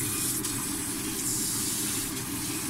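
Water streams steadily into a beaten egg mixture with dried scallop for steamed egg, a continuous close, hissing pour with no pauses and no voices.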